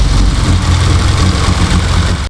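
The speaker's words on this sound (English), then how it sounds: "I noticed that the idle is having troubles idling" A modified 800 whp Mitsubishi EVO 8 idles roughly after warming up, giving a loud, close, steady low engine rumble with slight unevenness, no talking.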